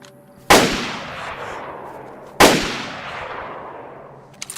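Two suppressed gunshots from the video game DayZ fired with a suppressor, each a sharp crack with a long fading tail, about two seconds apart, ending in a few faint clicks.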